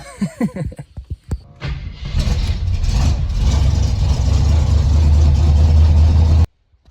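A 304 V8 in an AMX with a four-speed manual cranks with a few sharp starter bursts, then catches and settles into a loud, steady, rumbling idle close by before cutting off.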